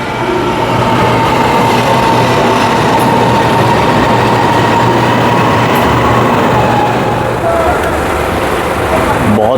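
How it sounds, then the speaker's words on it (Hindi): A train pulling into a station in Malaysia, a loud continuous rumble and rolling rail noise with a steady low hum, close by and dominating throughout. "तो ये पीछे ट्रेन आ गई मेरे"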